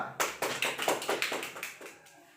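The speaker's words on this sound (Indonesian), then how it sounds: "Mari kita berikan tepuk tangan kepada kelompok 2" A small group of students in a classroom gives a brief round of applause for a presenting group, about ten distinct claps in an uneven rhythm, close and fairly quiet, fading out at the end.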